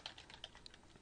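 Brief, quiet tapping of keys on a computer keyboard, a quick run of light clicks with no voices.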